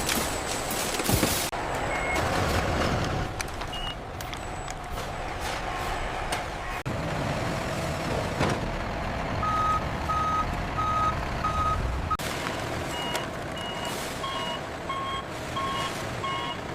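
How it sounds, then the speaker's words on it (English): Trucks in a loading area at a large potato chip factory, with repeated electronic reversing beeps sounding in regular bursts over continuous engine rumble and clanking activity, fairly loud and steady throughout. "The fully loaded trucks travel across highways toward regional distribution centers."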